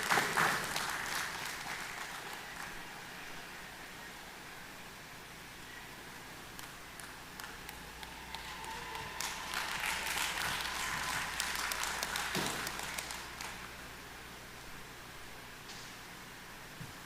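Applause from the audience at a National Day Observance award ceremony in Dominica, a faint, distant wash of clapping that continues steadily, rising slightly in the middle.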